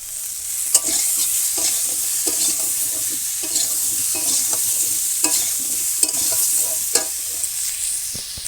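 A steady sizzle of ground cumin, ginger and chili paste sautéing for a fish curry in a village kitchen, with regular scraping stirs of a spatula against the pan throughout, close and continuous.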